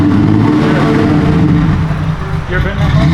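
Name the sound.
supercar engine starting up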